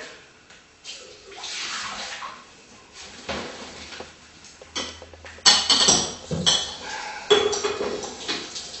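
Water splashes and sloshes amid clinks and knocks of a glass vase being handled as its water is changed and it is cleaned, with irregular bursts of pouring and rinsing, close by and moderately loud.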